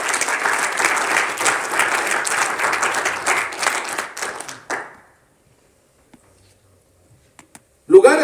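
Congregation applauding during a church service, a dense sustained wash of clapping from many hands that fades out around five seconds, followed by near silence and a few faint taps before a sudden loud burst at the end.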